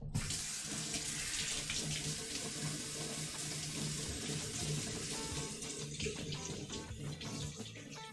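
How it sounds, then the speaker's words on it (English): Short ribs being rinsed under a running kitchen tap, a steady close stream of water splashing into a sink, continuous and fairly quiet with no speech. "Give these a rinse off."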